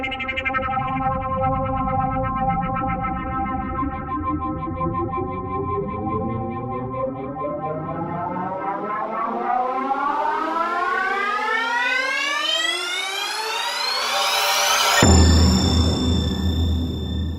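A synth riser built with the Soundtoys Crystallizer effect sweeps steadily upward in pitch over about fifteen seconds, shimmering and siren-like, then resolves into a loud, sustained chord hit.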